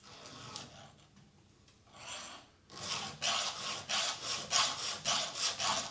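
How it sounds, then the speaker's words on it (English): A file rasps against the cutters of a chainsaw chain, starting with soft scattered scrapes and then settling into a run of rhythmic back-and-forth strokes, close and gritty with no one talking. "Some people just rub a file on there, and so I'm going to do that right now"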